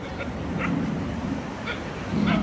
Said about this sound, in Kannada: ನಮ್ಮ ಪೋಕನು ಸುಮ್ಮನಿರಲ್ಲ, ಅವಳು ವಾಪಸ್ ಬೊಗಳುತ್ತಾ ಇದ್ದಾಳೆ.